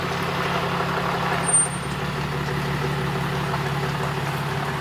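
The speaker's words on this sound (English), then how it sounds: "there goes James hauling the trailer for the very first time" A truck pulling an RV trailer for the first time gives a steady low engine rumble throughout, with a brief hiss like an air brake partway through.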